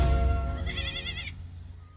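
A goat gives a single wavering, fairly faint bleat that lasts about a second over a low background rumble, with no voices.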